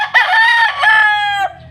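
A backyard pet rooster that had recently been caught in a flood gives one loud, close crow with a rising start and a long drawn-out tail, alone with no talking.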